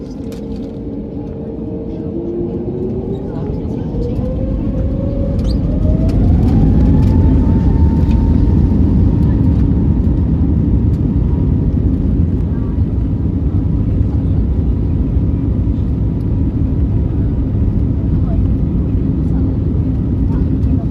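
An SAS Airbus A320 engine roar builds into a steady, loud rumble as a whine climbs in pitch, heard from inside the cabin.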